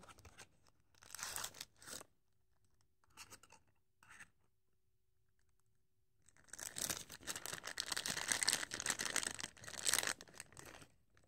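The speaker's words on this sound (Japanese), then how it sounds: "それでは開封していきます。" A limited-edition Ito-Yokado Tomica Toyota Vitz toy car package being opened: short bursts of tearing and crinkling, a pause with small scratches, then a long, steady stretch of close crumpling and ripping of the packaging.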